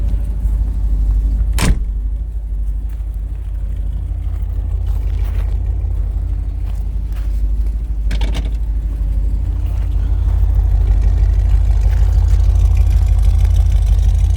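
A 1963 Corvette convertible's 327 V8 fitted with Flowmaster mufflers rumbles steadily at idle, a deep continuous exhaust drone with a couple of brief clicks, growing slightly louder toward the end.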